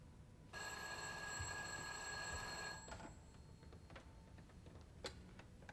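A telephone bell rings steadily for about two seconds, then stops and is followed by faint handling clicks, all quiet and in a hushed room.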